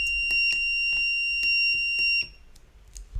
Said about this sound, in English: then we'll trigger the alarm